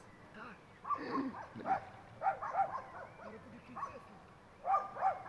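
Dogs bark in short, scattered bursts at a moderate distance by a lake, with a yip or two mixed in, over low outdoor background noise.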